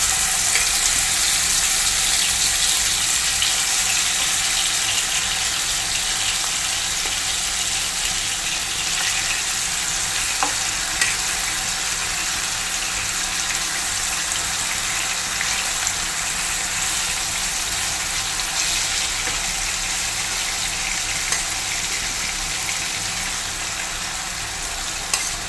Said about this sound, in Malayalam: നമുക്ക് ഇത്തിരി ഓയിൽ ഒഴിച്ച് കൊടുക്കാം ഫ്രൈ ചെയ്യാൻ വേണ്ടി. നമ്മൾ മസാല പുരട്ടി വെച്ചേക്കുന്ന നമ്മുടെ മീൻ ഇട്ട് കൊടുക്കാം.